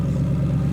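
Modified Mercedes-Benz SLS idling with the exhaust valve open, a loud, steady, low burbling rumble heard up close for under a second.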